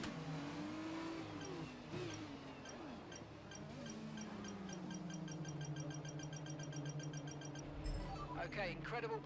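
A Formula 1 car in the F1 22 video game drones with a steady, sustained engine tone during the formation lap, moderately loud, with commentary running over it throughout.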